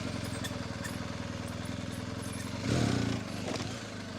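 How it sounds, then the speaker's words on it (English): A motorcycle engine putters at low revs with a steady pulsing beat, briefly swelling louder and rougher near the end before settling back. "Hopefully you can hear how low the revs are when you go from 0 miles an hour."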